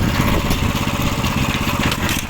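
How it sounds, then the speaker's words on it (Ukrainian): A ZUBR hybrid walk-behind tractor with a nonstandard 15 hp petrol engine runs in reverse, its loud, rough engine drone chugging steadily and close throughout. "зараз ми ще включимо задню"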